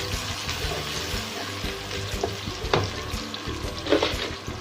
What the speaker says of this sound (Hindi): लो गाइस, प्याज ना बिल्कुल हल्का सा सौटे हो गया।